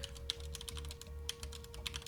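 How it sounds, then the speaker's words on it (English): Fingers type steadily on a computer keyboard, giving quick clicking keystrokes at close range over a constant low electrical hum, with no talking. "I don't want to be typing that here."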